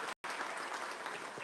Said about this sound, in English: how about a big round of applause for all of our sponsors?